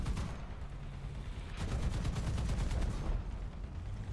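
Gunfire strikes the player's vehicle in a tank video game: a rapid, close burst of repeated shots lasting about a second and a half over a constant rumbling background.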